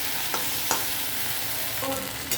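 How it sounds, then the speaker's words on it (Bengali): Okra and onions frying in mustard oil in a pan, a constant near sizzle with a few sharp spatula scrapes and knocks against the pan, no talking. "আমার ঢেঁড়স আর পেঁয়াজটা ভাজা হয়ে গেছে।"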